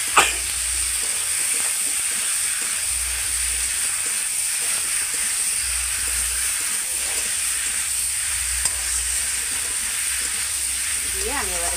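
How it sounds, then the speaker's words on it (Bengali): Pointed gourd and potato frying with spices in oil in a pan, a steady loud sizzle and hiss with occasional stirring clatter, continuous throughout. "এবার আমি যে পটল আর আলু ভেজে রেখেছিলাম ওইটা ওর সঙ্গে দিয়ে কষবো।"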